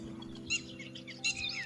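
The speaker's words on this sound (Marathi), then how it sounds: "पाखरे बोलून राहिले सगळे" A flock of birds chirps and calls from a tree outdoors in short bright bursts, fairly close, over a steady low hum.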